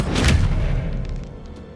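The Expelliarmus spell cast in Hogwarts Legacy lands as a loud, deep booming burst right at the start, then fades into a dwindling rumble with faint airy sparkles.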